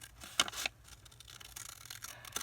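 Scissors snip paper to cut out a fan embellishment, giving two or three quick, crisp, close cuts near the start, followed by faint rustling of the paper.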